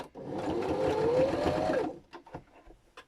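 A sewing machine back-stitches a seam on a fabric tote bag with a steady, close whirring run of about two seconds, then a few short clicks and taps as it stops.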